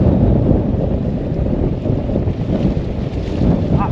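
Strong wind buffets the microphone on a rocky coast, a loud steady roar with gusty rumble and no voices.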